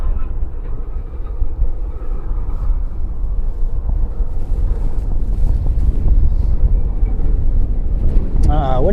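Strong gusting wind at an airport roars and buffets the microphone as a loud, continuous rumble throughout.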